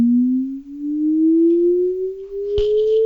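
Pure synthesized sine tone generated in Haskell, gliding slowly and steadily upward in pitch for about three seconds, loud and alone, with a brief click and faint hiss near the end.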